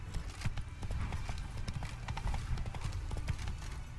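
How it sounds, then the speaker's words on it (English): Horse hooves in the video game Witcher 3 clip-clop in a quick, steady galloping rhythm, loud and close throughout, with no voices. "Run, Roach"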